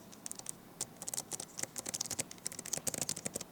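Rapid typing on the clicky mechanical keyboard of an Alienware m18 laptop, a dense run of crisp close key clicks with uneven rhythm.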